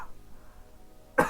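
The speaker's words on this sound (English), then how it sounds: "Sorry, I got a cough here." A single short cough from a man at the very end, close and fairly sharp after near-silence.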